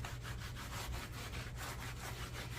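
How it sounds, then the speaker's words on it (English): A clean, dry, lint-free cloth rubs across a sanded wood sample board in steady back-and-forth strokes, giving close, soft, rhythmic scuffing with no voices. "now I'm just going to take a clean, dry cloth, lint-free, and get more of the dust up"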